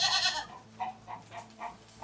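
Sheep on a Nigerian sweet potato farm bleat in a run of short, repeated calls, nearby and fairly clear against quiet farm surroundings, with no talking.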